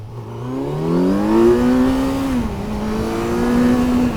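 A 2024 Kawasaki Z900 motorcycle engine pulling hard under full throttle, a loud, rising buzzy drone that climbs in pitch, dips briefly at a gear change, then steadies, heard close with wind rush and no speech.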